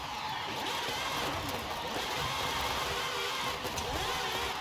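A revving drift car engine with anti-lag in Forza Horizon 5 drones continuously at moderate volume, with rough crackling pops scattered through the steady roar.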